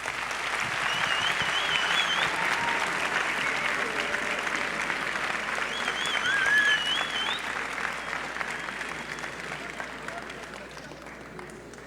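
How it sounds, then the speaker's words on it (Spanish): Sustained audience applause after a conference talk by a doctor, a dense, steady wash of many hands clapping for about twelve seconds, swelling slightly midway before slowly tapering, with faint voices in the hall. "Démosle un aplauso"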